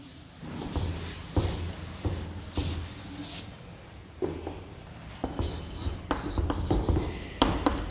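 Pen or pencil scratches steadily on paper as numbers are written by hand, a close run of short rubbing strokes with small taps between them.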